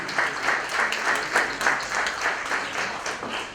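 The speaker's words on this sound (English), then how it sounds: "Give a big round of applause" A full morning audience at a VAT clinic event claps steadily, a dense, even patter of many hands that carries on without pause at moderate loudness.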